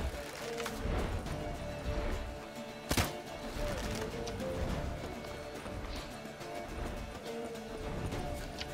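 Galloping horse in The Witcher 3, a steady hoof rhythm running through dense game ambience with a single sharp crash partway, moderately loud throughout.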